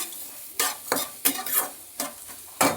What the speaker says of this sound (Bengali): ক্যাপসিকাম কুচি দিয়ে ভালো করে লাল লাল করে ভেজে নিচ্ছি